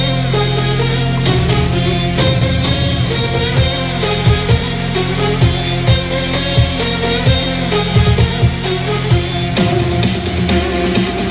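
Synth strings, mid-low bass and saw layers play together in a dense electronic dance arrangement, a full sustained wall of sound with a pulsing low kick-like rhythm throughout, loud and steady with no voices.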